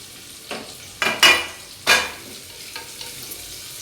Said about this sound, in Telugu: ఉల్లిపాయలు వేస్తున్నాను